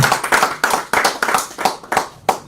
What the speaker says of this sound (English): Please clap your hands together.